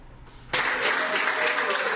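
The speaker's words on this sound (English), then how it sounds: "Jimmy exchanged a grateful smile to applause from the medical staff as he was discharged from the hospital." Hospital medical staff break into applause as a freed hostage is discharged: after a quiet half second, loud, dense clapping starts abruptly and continues steadily to the end.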